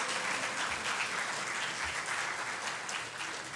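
A church congregation applauds during a Spanish-language sermon, a steady wash of many hands clapping throughout, fairly loud and close, with no talk over it.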